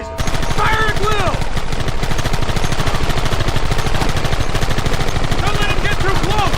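Rapid, dense gunfire in Red Dead Redemption, continuous loud volleys of shots crackling without pause, with shouting voices mixed in over the barrage.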